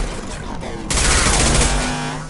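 Loud shotgun blasts in the sci-fi shooter Mass Effect 2 Remastered during a firefight with hostile mechs at a colony, a dense burst of gunfire filling the clip after a brief lead-in, with combat voices mixed in.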